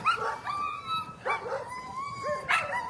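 Sled dogs at the finish of the 2022 Willow 300 sled dog race, yipping, whining and barking excitedly in repeated close bursts, with no talk over them.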